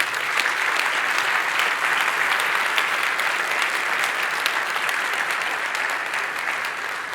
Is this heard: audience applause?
yes